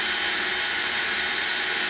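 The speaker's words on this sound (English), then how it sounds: "go ahead and drill the first" A steady, loud mechanical whine with a high pitched tone, like a power drill boring into wood, continuous with no pauses.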